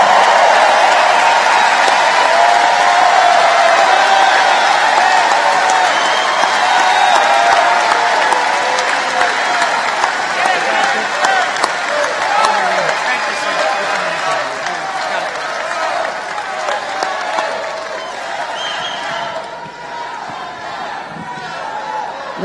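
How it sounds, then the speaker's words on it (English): A large crowd at a rally in Wheeling, West Virginia, applauds and cheers in a loud, continuous wash of clapping and voices that gradually thins toward the end. "Thanks to this amazing crowd for this very warm welcome."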